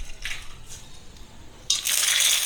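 Whole garam masala spices tipped into hot mustard oil in a pan over an outdoor clay stove, giving a sudden bright hiss and crackle in the last second after quieter faint rustling.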